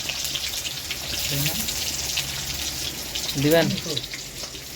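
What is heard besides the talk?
oil sizzling in pan while frying onion, chili and meat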